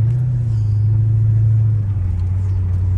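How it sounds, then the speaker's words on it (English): Low, steady engine drone of a Mercedes SL500 with a Lorinzer kit and aftermarket exhaust while driving, heard from inside the car as an even rumble with no talking. "that's an aftermarket exhaust system"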